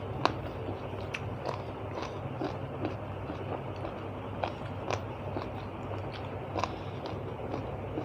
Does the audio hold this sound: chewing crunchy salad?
yes